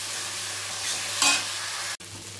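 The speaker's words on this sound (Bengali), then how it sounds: "মশলার কাঁচা গন্ধ মানে একদম 5-7 মিনিট ধরে কষাতে হবে ভালো করে" Masala spices sautéed in a pan for a Bengali patla fish curry (macher jhol), frying with a steady close sizzle and a brief louder burst of stirring midway, with no talking.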